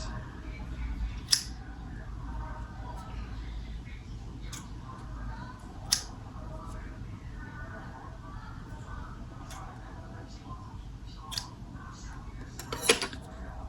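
Scissors snip through hair in a handful of sharp, separate cuts spaced several seconds apart, close and crisp over a quiet room background.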